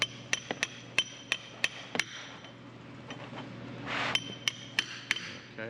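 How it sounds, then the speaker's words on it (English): A small hammer taps a crankshaft seal into the engine block of a MINI Cooper, giving a series of sharp, close metallic knocks at irregular intervals, with a brief rustle between strikes. "then we'll just use a little hammer to tap it a little more in"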